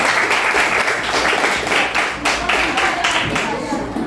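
Classroom students clap for a student group heading to the front, a dense, steady patter of many hands close by, lasting throughout with a few louder surges.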